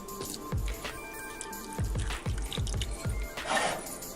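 Milk is poured into a simmering Cajun chicken Alfredo sauce, making soft, wet glugs and squishy drips in a loose rhythm against a low background.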